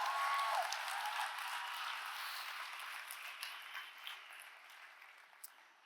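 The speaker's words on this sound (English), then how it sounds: "Oh, you can clap." An audience applauds steadily, the clapping loudest at the start and slowly fading over several seconds.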